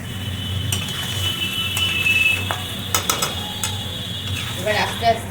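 Mutton being stirred in a pot over a gas flame, with scattered close clinks and scrapes of a utensil against metal above a steady low hum and a faint sizzle, the knocks grouped more tightly toward the end.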